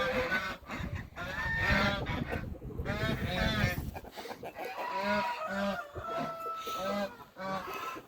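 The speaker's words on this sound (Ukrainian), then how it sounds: "Ано, гуси мої, гуси трохи порубали." Farmyard geese honk and call repeatedly in loud, overlapping bursts, with other poultry clucking nearby and the calls thinning out toward the end.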